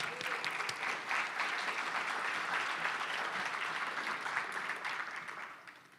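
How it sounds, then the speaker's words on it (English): Sustained applause from an audience at a regional State of the Region welcome address, dense and even clapping throughout that tapers off toward the end. "So that I'm going to applaud for myself."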